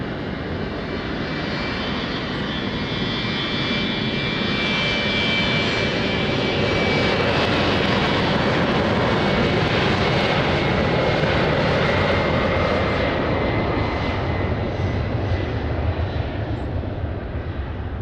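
An Air Portugal airliner takes off from runway 20 at Lisbon Airport. Its engines give a loud, steady, broadband roar that holds for the whole stretch.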